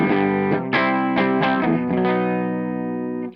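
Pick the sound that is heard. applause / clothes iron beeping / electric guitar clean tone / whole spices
electric guitar clean tone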